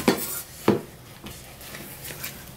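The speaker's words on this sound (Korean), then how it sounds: "두부는 이렇게 조금 찌개에 들어갈 거니까 큼직하게 잘려 둘게요" A kitchen knife cuts tofu into large chunks for a Korean crab soup, giving two soft thuds on a cutting board followed by fainter taps and light rubbing.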